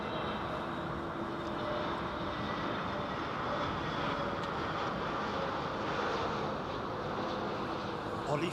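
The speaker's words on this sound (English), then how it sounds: "that BA 777" A British Airways Boeing 777 approaches London Heathrow with a steady, continuous jet roar, moderately distant and unchanging throughout. Faint voices may sit beneath it.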